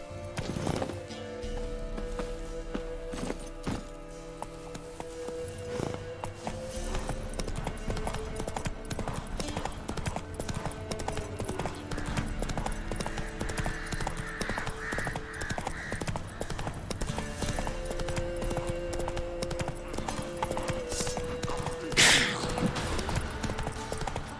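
Roach the horse trotting in The Witcher 3, a steady clip-clop of hooves under a continuous bed of game music and ambience, moderately loud with a brief louder accent near the end.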